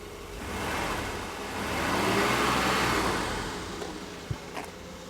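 A 1983 Mercedes car engine runs steadily at close range as a smooth, continuous broadband rumble that swells gently through the middle and eases off, with a couple of small clicks near the end and no voices.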